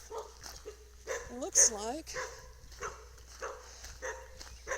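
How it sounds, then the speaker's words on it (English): Dogs bark and yip briefly in the background while a person talks over them. "Sorry about the dogs and my neighbor's dogs."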